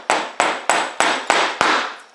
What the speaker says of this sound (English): So I'm going to tap the fixing